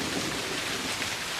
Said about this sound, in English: Those drops fall here. And this is rain.